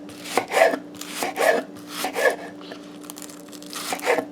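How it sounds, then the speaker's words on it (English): Scallions being chopped with a knife on a board while seasonings are prepared for boiled cassava and salted fish, in a run of quick, crisp chopping bursts at a close, steady rhythm. "We're chopping our scallions now."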